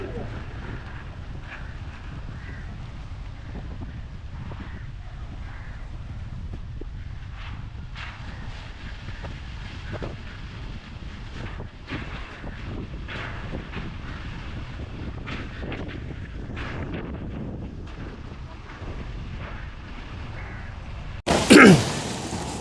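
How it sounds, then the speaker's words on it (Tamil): Strong wind at a rough seashore in Jaffna, Sri Lanka, during a storm buffets the microphone in a continuous low roar, with rumbling gusts and a sudden loud knock near the end. "என்ன காத்து அப்படி அடிக்குது சரியான காத்திங்க"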